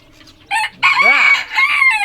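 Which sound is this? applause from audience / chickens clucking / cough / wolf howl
chickens clucking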